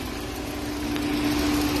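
A 2021 Kia Sorento 2.5 turbo 4WD idles with its bonnet up, giving a steady, smooth, even hum close to the microphone, with no knocks or roughness and no one talking.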